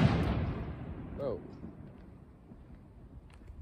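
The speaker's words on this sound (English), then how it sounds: "A firework just went off." A single firework bangs loudly at the very start and its boom decays over about a second, followed by faint outdoor ambience.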